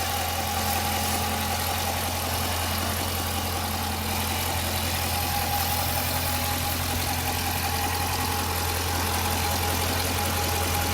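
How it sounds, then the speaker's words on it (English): The exhaust of a 2015 Dodge Challenger R/T Scat Pack idling steadily through its mufflers, a deep continuous rumble with a low burbling hum that holds constant throughout, no talking. "let's hear the mufflers again. Hear the exhaust."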